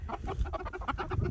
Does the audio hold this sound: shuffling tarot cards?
no